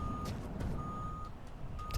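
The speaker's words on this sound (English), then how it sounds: "There's a big beep from somewhere. It sounded like a truck horn." A vehicle beeps in The Long Drive driving game: three flat steady electronic tones, the middle one held longest, like a truck's reversing alarm, over a loud rumbling engine and road noise.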